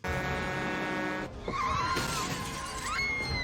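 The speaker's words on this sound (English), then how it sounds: "Car accident." A car skids in a crash scene from a TV drama, with a droning engine followed by squealing tires and crashing impact noises, loud and close, with no talking.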